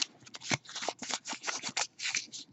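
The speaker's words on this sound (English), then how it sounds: "So just crunch it, get the wrinkles." Hands crumple a sheet of Country Roads patterned craft paper, giving close, rhythmic crinkling crunches in quick repeated bursts without talk.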